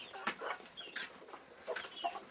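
Several chickens cluck and squawk at morning feeding time in a farmyard, a close, irregular burst of calls with no talk over them.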